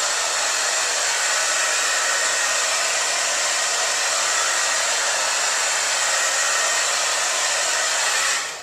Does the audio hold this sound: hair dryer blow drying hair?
yes